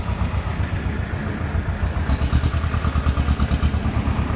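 A 2021-model tractor idles at the weekly Talwandi Sabo tractor market in Punjab, giving a steady, close, low chugging clatter that runs continuously with no talk over it.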